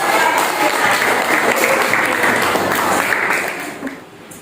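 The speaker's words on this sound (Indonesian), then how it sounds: "Ya, mari tepuk tangan." A classroom of students applauds after a group presentation, giving a dense, loud burst of many clapping hands that holds steady and then fades near the end.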